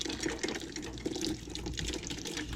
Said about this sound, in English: Well, we'll let the water come out.